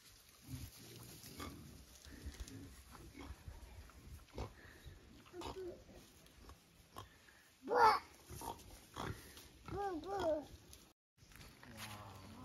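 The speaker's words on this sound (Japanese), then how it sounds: "全部豚。" Pigs on Shodoshima grunt and oink in a farm setting, a few close calls rising over a steady run of chatter from visitors, with one loud squeal midway.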